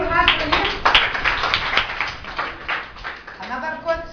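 A classroom of students claps for a classmate during an English lesson, a quick burst of hand claps close by, with a teacher's voice talking over and around it.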